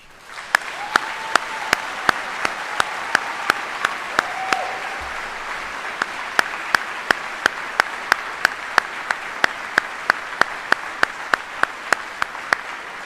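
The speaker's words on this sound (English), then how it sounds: "please join me in a round of applause for these 32 soldiers" Applause from the audience at a US Army retirement ceremony honoring 32 soldiers, heard as a regular series of sharp, evenly spaced claps over a steady background wash, continuing throughout.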